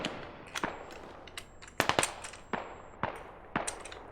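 Gunfire in the shooter video game Squad: sharp, irregular shots and short bursts crack out over a low, quiet background, with a few louder reports clustered near the middle and end.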